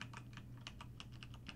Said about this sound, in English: So if I start typing something in